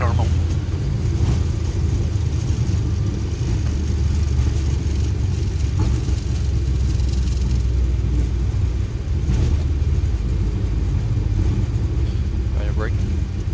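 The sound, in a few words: Boeing 737 reverse thrust during landing roll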